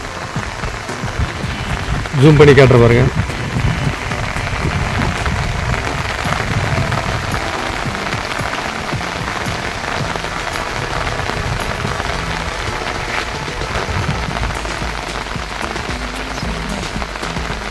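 Light drizzle falls steadily in a hill region, a soft, even patter of rain on surfaces throughout, with a brief louder burst of noise early on and someone speaking over it.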